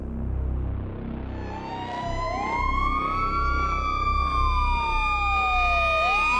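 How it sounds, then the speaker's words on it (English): A loud wailing ambulance siren sweeps up and down as the ambulance passes close, its pitch sliding downward as it goes by over road rumble. "the way a siren distorts as an ambulance races past us"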